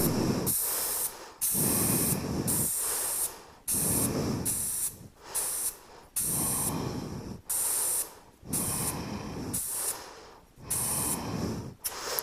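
Air hisses out of a motorcycle tire valve in a series of sharp, steady bursts, each lasting about a second with brief pauses between, close and loud against a quiet background.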